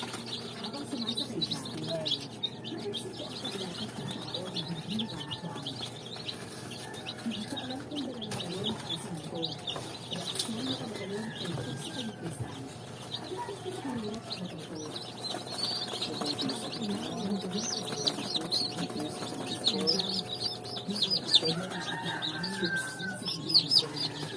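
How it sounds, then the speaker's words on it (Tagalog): Newly hatched baby chicks peep faintly and keep chirping in a chicken coop on a farm, with other birds cooing and calling nearby. "yung mga sisiw na nandito"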